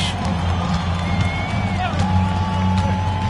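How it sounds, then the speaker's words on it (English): Home crowd at an NBA basketball game, Warriors versus Bulls, a steady roar of cheering and whoops filling the arena, loud and continuous under play-by-play commentary. "Their home crowd has energized them all game."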